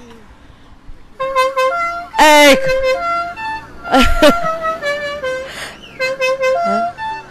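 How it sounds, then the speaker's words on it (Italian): A van horn honks in several bursts during an outdoor ecology day in Canosa, Italy, sounding loud and close, with people talking and other bright tones throughout. "Sì, prima ci ha clacsonato,"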